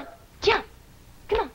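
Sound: dog barking

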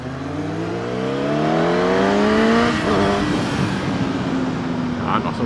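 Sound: motorcycles accelerating in a street race

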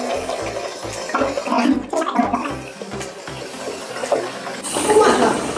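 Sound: water filling Philips steam generator tank

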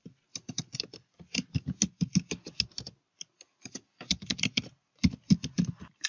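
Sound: typing email address and password on keyboard

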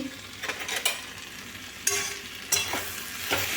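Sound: stirring tomato chutney in a pan

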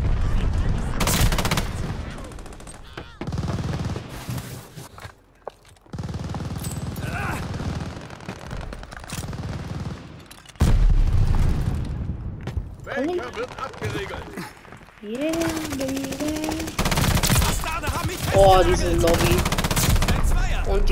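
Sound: KGM 40 gunfire in video game Call of Duty Vanguard

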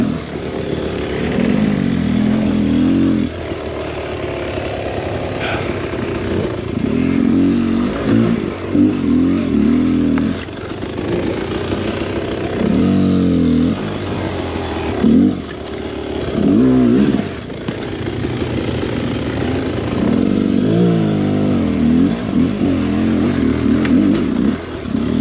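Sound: enduro motorcycle riding through wet terrain

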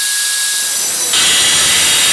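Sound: cutting a steel trailer fender for a motorcycle

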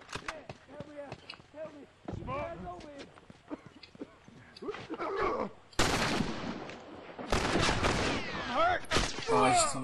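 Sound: gunfire in The Last of Us multiplayer video game

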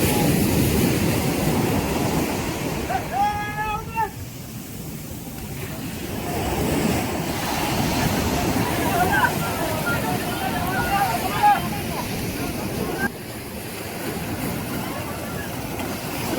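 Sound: sea waves as a fishing boat is launched

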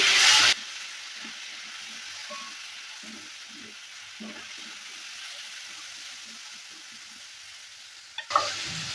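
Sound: jackfruit seeds stirred and fried with turmeric and chilli powder

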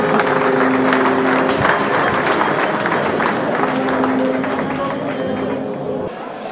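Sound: audience applause at New Year reception

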